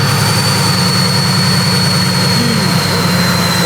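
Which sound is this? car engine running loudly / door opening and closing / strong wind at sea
car engine running loudly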